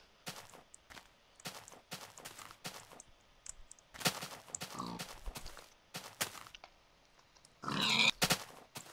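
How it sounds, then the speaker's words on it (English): Pigs in Minecraft, a string of short grunts and oinks spaced irregularly among scattered footstep-like thumps, quiet overall with a louder cluster of grunting near the end. "I'm gonna go and kill these pigs."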